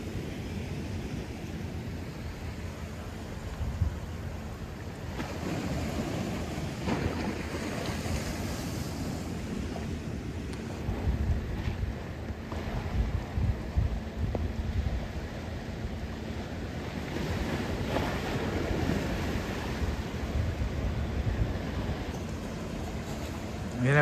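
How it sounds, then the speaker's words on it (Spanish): Ocean waves wash against the Guánica boardwalk in Puerto Rico after Hurricane Beryl, a continuous rushing surf with gusting wind buffeting the microphone and swells building and breaking over about twenty seconds. "Miren un par de olitas más, ustedes pueden ver ahí."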